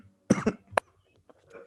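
Two quick coughs close to the mic, then a short throat-clearing hack, in a quiet room with little background sound.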